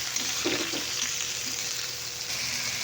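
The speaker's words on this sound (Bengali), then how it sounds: "এবার একটু বেগুনগুলোকে আবার ভেজে নেব হলুদ আর লবণ দিয়ে ভালো করে।" Eggplant pieces fry with turmeric and salt in a pan, a steady, moderately loud sizzle with a few soft stirring knocks early on.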